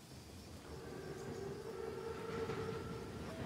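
An armored train in Call of Duty: WW2 rolls past with a steady, rumbling rail roar and faint metallic tonal squeals, moderately distant and continuous with no talk.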